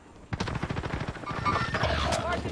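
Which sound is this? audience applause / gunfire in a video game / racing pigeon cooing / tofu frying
gunfire in a video game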